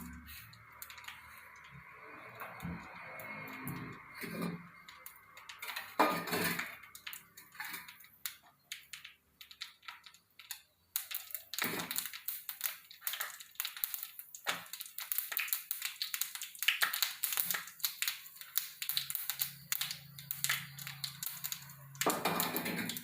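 Mustard seeds splutter in hot oil for a buttermilk curry made without vegetables, a faint tone giving way to a dense run of sharp, irregular crackles and pops close by.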